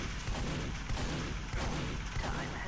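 Gunfire in a competitive Team Fortress 2 match on Gullywash, a sustained loud barrage of shots and blasts filling the clip, with no clear voices over it.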